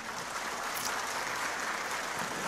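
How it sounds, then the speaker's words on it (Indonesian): Audience applause at a national working meeting where presidential candidates give speeches, a dense, continuous roar of clapping with no clear individual claps, steady and fairly distant. "kita beri tepuk tangan untuk mereka"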